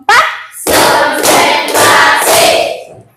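Hand clapping in a children's counting clap game: a short clap, then a pause, then three loud bursts of rapid clapping in a row, close and sharp.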